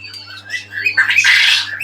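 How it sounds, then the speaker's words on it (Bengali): Quails calling close by in a busy run of squawks and chirps that builds into a dense, harsh burst, with a low hum underneath. "এদিকে হচ্ছে কোয়েল পাখিতে ডাকতেছে"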